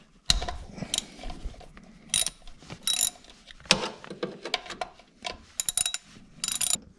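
Oil drain bolt on a snow plow being loosened with a 6mm hex key: repeated ratcheting clicks and metallic turning bursts in uneven spurts, close and crisp, with short pauses between them.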